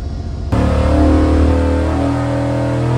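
A carbureted 8.1L V8 on a cam test run revs hard from a quiet start, a loud sustained engine roar climbing toward 5300 rpm and holding steady, close and alone.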